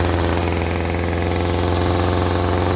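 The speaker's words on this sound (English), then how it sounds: "At low idle, it's actually a little higher than I like." A Stihl string trimmer's small two-stroke engine idles slightly high after a stalling fault, a loud, close, rapid buzzing putter that holds steady throughout without speech.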